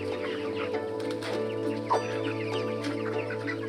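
Chickens on a poultry farm cluck steadily at close range over a constant mechanical hum, with a single sharper squawk standing out partway through.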